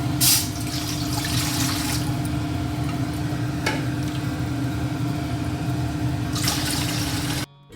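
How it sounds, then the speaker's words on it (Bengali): Running water, likely from a tap, filling a pot for cooking rice, a steady close rush that carries on without a break until it cuts off near the end. "অন্যদিকে আমি ভাতের জন্য জল রেডি করছি"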